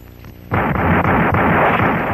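A gunshot goes off in a Filipino action movie: a single sudden loud blast after a quiet start, followed by a sustained roaring rumble.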